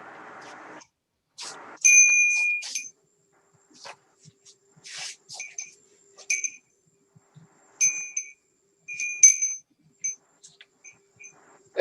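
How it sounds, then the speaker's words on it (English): A Korean bell struck during a Buddhist precepts ceremony: several bright metallic rings with clear tonal overtones, spaced irregularly across the stretch between short rustles and quiet gaps, close and fairly loud. "So I'm going to now get the bell."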